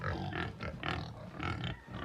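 Pigs on a Jamaican backyard farm grunt repeatedly in short, close, rhythmic bursts with brief pauses between them.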